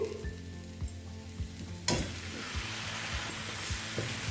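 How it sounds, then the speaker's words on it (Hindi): Low, rhythmic stirring knocks over a soft fry, then a sudden louder sizzle bursts as long-cut paneer pieces land in the spiced onion masala for paneer bhurji and keep hissing steadily, close by with no talk. "अब इसमें हम डालेंगे पनीर"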